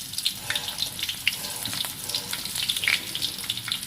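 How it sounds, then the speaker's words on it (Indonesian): Sliced shallots frying in oil to make fried onions, a steady crackling sizzle with dense hiss and scattered sharp pops throughout, fairly close and alone without talk. "Kita iris bawang merah ya. Terus kita goreng deh jadi bawang goreng ya."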